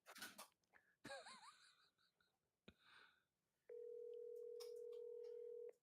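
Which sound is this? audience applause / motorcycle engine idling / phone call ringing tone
phone call ringing tone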